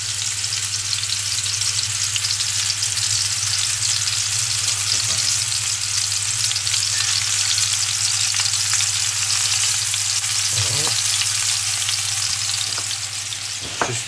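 Spiced Moroccan-style beef meatballs brown in a pan, a loud, dense and continuous sizzle with a low steady hum underneath and occasional light scrapes as they are turned.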